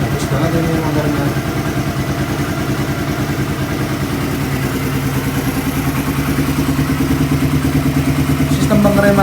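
A Suzuki Satria FU motorcycle engine runs at a steady, pulsing idle with only a light blip of throttle, loud and close, its rhythmic putter rising slightly near the end.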